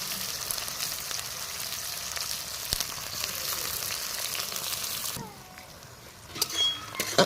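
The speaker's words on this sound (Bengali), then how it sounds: "পেঁয়াজগুলো খুব ভালোভাবে ভেজে নেব।" Chopped onions fry in a pan, giving a steady crackling sizzle that runs for about five seconds, then drops away, with a few stirring clinks and scrapes near the end.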